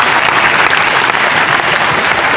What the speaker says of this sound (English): Let's give a round of applause to STI College Marikina.